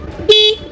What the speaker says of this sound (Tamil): இப்படி அட்ஜஸ்ட் பண்ணிட்டு ஹார்ன் அடிச்சு பாருங்கள்.